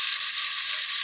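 Onion sizzles steadily in a pan while being stirred for kovakka (ivy gourd) curry, a brief, even hiss with no voices.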